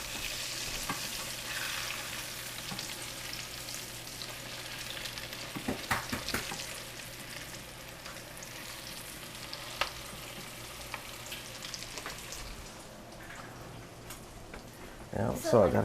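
Tropical crab cakes fry in a pan with a steady close sizzle and occasional stirring or scraping clicks, and a voice talks over it.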